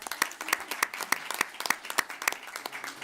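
A round of applause at a school district board of trustees meeting, with steady hand claps from a modest group of people in a room, clear and fairly close, no talking over it.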